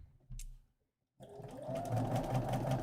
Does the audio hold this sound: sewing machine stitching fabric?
yes